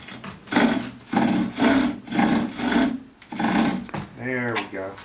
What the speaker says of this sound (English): you hear that sound, that bouncing sound? That means that it's loosened up on me